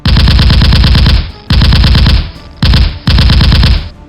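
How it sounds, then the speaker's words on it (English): Military machine-gun fire in four loud, close bursts of rapid automatic shots, each cut off sharply, with no voices heard. "3, 2, 1, fire!"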